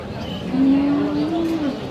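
A Sahiwal cow lets out a low, drawn-out moo amid a noisy outdoor crowd murmur at Aftabganj cattle market in Dinajpur.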